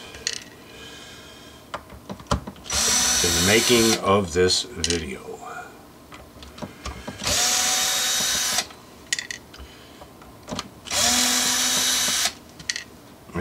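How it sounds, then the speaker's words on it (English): A power tool whirs loudly in three separate bursts of a few seconds each during a guitar pickup install, with a person talking in the pauses between them. "Power tools are going to be used"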